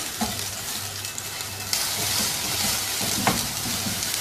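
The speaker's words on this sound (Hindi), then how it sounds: "तेल हल्का सा गर्म हो जाए तो इसमें एक दरमियाने साइज की प्याज कच्ची पिसी हुई शामिल कर देंगे और इसको हल्का गुलाबी माइल होने तक पकाएंगे।" Ground raw onion frying in hot oil in a pan, a continuous broadband sizzle that jumps louder partway through and stays steady and close, with no voices.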